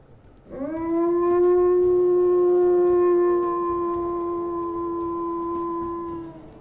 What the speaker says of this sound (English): she has got quite a deep howl there